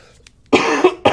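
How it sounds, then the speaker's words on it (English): A person coughs twice at close range, two harsh, abrupt bursts after a quiet moment, the first longer and rougher, the second short and clipped. "Oh, I still got a cough."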